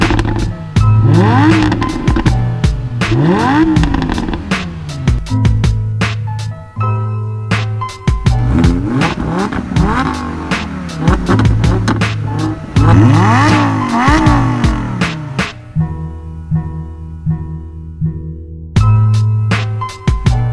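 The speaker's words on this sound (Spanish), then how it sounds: "Está chingón el sonido del escape, pero mejor este, mira." A sports car's exhaust revs hard at a track day, climbing and falling through loud, repeated bursts, with brief idle pauses and a final blip after a quieter stretch.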